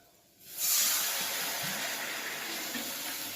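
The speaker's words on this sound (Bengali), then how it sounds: "এখন জলটা দেবো।" Water poured into a hot pan of fried fish and cooked-down spice paste bursts into a loud, sudden steaming hiss that then settles into a steady, close sizzle.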